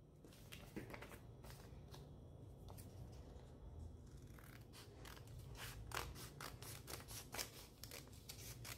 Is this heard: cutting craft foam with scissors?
yes